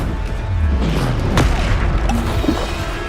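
A Bombarda explosion spell goes off in the Hogwarts Legacy game, a loud booming blast with crashing impacts over a dense rumble of combat effects.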